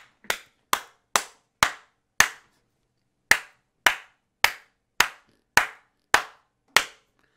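A single person claps slowly and sharply, about eleven crisp claps in an uneven rhythm with one longer pause partway through, close and dry with no talk.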